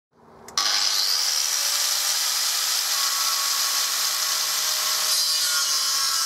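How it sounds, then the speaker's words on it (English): An angle grinder cuts into a steel helium gas tank, starting with a short whir and then settling into a loud, steady, high-pitched metal grinding screech that runs without a break, with no talk. "it's safe to grind the tank open like this"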